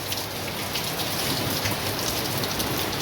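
Heavy rain pours steadily in Surat, a dense, continuous hiss of drops drumming on surfaces, loud and unbroken throughout with no voices.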